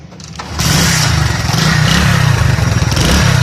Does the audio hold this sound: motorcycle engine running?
yes